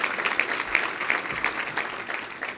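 Applause at an awards event, a steady crowd clapping at moderate volume with dense overlapping claps throughout, a few louder hand claps standing out.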